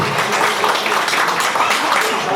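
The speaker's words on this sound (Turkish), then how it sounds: "Alkışlar mıyız?" Audience applause at an album launch night, a dense, steady patter of clapping at moderate level throughout, with crowd murmur underneath.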